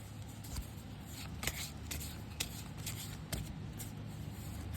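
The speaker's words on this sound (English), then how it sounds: "You saw me shuffling." Deck of cards being shuffled, several quick riffles and soft bridging flutters spaced about half a second apart, close but quiet over a low hum.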